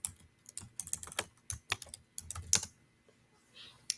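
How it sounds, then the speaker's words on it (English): Quick bursts of keystrokes on a computer keyboard, close and distinct, clustered in rapid runs with brief pauses, then trailing off into near quiet. "I'm about to type in my name."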